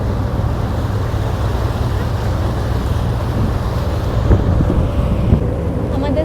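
Steady wind buffets the microphone during a boat ride on an English river cruise, over a constant low engine drone and water rush, with faint voices under the noise.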